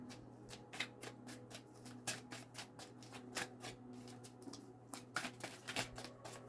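Tarot cards are shuffled by hand in a quiet room, a rapid string of crisp riffling flutters and taps with one card flipping out sideways, close and fairly soft, with no talking.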